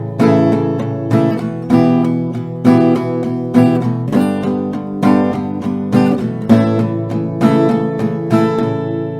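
Acoustic guitar strummed in a steady rhythm, moving through a short progression of chords with clear, bright attacks, played alone and close.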